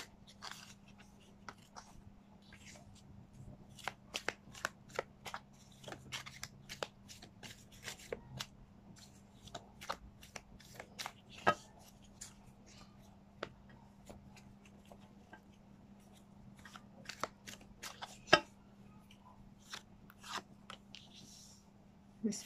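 Tarot cards being shuffled, a long run of quick papery riffles and soft slaps at close range, uneven in rhythm and fairly quiet, over a faint steady hum with no talking.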